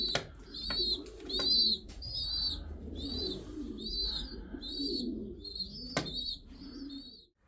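Pigeons coo repeatedly inside their coop, overlapping throaty calls close by with a few brief chirps and a soft flutter of wings, steady throughout with no talk.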